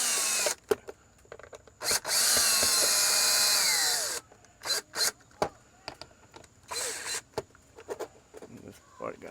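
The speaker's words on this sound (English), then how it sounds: "I'm just gonna screw these guys in there." Cordless power drill driving screws into an outdoor light fixture, with short whirring bursts and one long run near the start, then clicks and handling noises between the drilling.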